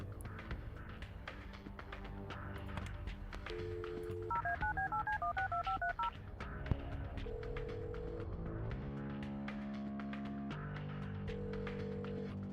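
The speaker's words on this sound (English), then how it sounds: "Nice, we call the sheriff." Telephone keypad tones dialing a number in the Kathy Rain video game, a quick series of DTMF beeps over steady background game music, with no talking.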